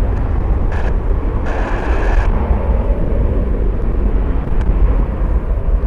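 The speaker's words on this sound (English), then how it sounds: "It's a 737-800 heading to Phoenix, Arizona." A Southwest Boeing 737-800 jet airliner at Cleveland Hopkins airport in high wind, giving a steady, loud broadband roar that holds throughout with gusty rumble underneath and no talk.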